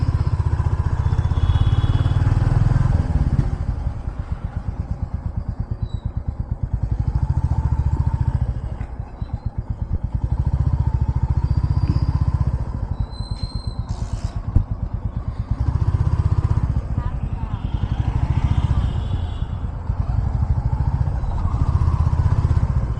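A motorcycle rides along an empty road in Davangere toward a Durgamma temple during a cricket-win celebration. The engine hums steadily and close, with throttle swells and dips across the whole ride.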